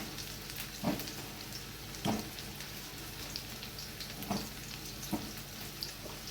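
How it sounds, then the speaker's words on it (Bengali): Pieces of elephant foot yam fry gently in a pan with a soft, continuous sizzle, broken by a few light taps or stirs at irregular intervals, and no voices. "এদিকে হালকা ভাজাও হয়ে গেছে ওলটা"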